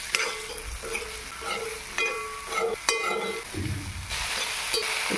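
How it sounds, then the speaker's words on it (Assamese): Bitter gourd fries in a pan with turmeric and salt, giving a close, continuous sizzle with scraping stirs and a few sharp clinks of the spoon against the pan, no talking. "আৰু এতিয়া মই তিতা কেৰেলাখিনি দি দিম।"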